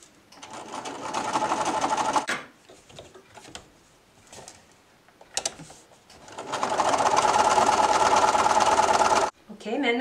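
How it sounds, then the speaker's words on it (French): Sewing machine stitching a fabric face mask, running in two loud sustained bursts with a quieter pause of handling noises between them. "Maintenant, je vais coudre en haut et en bas."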